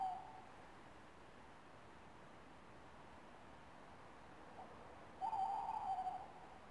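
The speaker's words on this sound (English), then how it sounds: "An owl" An owl hoots once at night outdoors in the silence near a monument, a faint, brief call rising out of steady hiss toward the end.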